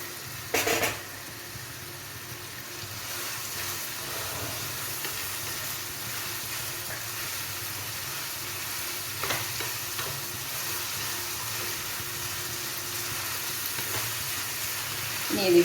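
Curry leaves and tomato frying in oil in a pan of pork roast, a low steady sizzle with sharp crackles at the start and again midway, then a stirring scrape at the close.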